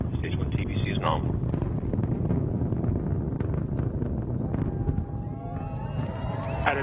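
A continuous, dense roar from Antares rocket engines at full thrust as the rocket climbs. It stays loud and steady throughout, with a voice speaking over it.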